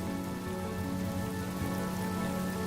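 Steady rain falling in a video game, a dense, even hiss of drops on surfaces with a low hum underneath, continuous and unbroken, with no voices.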